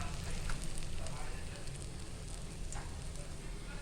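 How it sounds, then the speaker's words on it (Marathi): Bread pakoda, battered with moong and chana dal, frying in hot oil: a steady, dense sizzle and crackle runs close and loud throughout with no talk over it. "ह्या ह्यांना फ्राय करून घेऊया"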